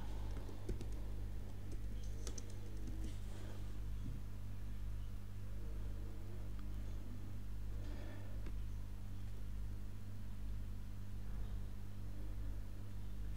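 Someone types a prompt on a computer keyboard, making soft, irregular clicking keystrokes at close range over a steady low electrical hum, with no talk.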